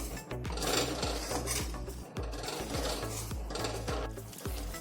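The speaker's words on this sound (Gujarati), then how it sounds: "આ મલાઈને ગરમ કરવાની છે અને આ રીતે સતત હલાવશું જેથી કરીને નીચે ચોટે નહીં" Cream (malai) is stirred without pause in a pan over a high flame to make ghee, the utensil scraping the pan bottom in a steady, regular rhythm over a continuous sizzle, close and fairly quiet.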